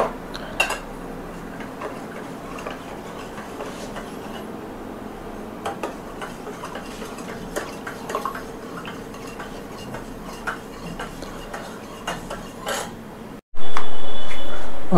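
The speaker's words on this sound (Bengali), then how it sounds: "এখন জাস্ট ঘুটে নেব।" A spoon stirs milk powder into strong coffee, clinking steadily and repeatedly against the cup, close and clear, then ends abruptly in a burst of loud noise.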